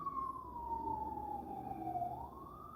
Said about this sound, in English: The sirens are blaring.